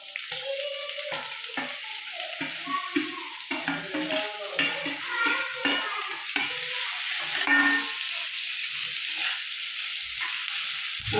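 Onion, green chili and curry leaves are sautéed in a pan after ginger and garlic have browned, with close, steady sizzling and repeated spoon scrapes and stirring strokes throughout.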